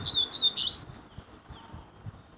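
A caged double-collared seedeater (coleiro) songbird sings a quick burst of high, warbling chirps near the start, then falls quiet over a faint background.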